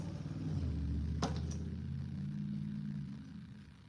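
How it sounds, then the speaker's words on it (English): Loud car passing outside, a low rumbling engine drone that swells and then fades away, with a brief sharp clatter partway through and no talk. "Somebody car is too loud."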